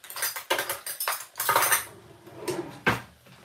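Cup and metal strainer being handled in a kitchen while making pineapple and ginger green tea, giving a series of close clinks and knocks of dishware, several sharp taps spread across a few seconds.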